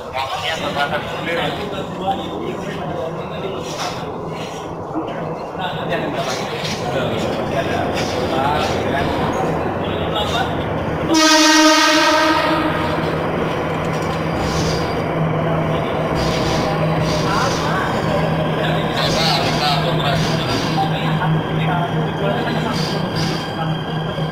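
MRT Jakarta metro train running during a 2019 limited trial, a steady rumble with a brief rising whine near the middle, heard under ongoing talk.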